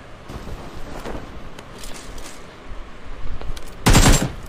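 Gunfire in the mobile battle royale game BGMI, with scattered distant shots and bursts over windy ambience that build to a loud close burst near the end.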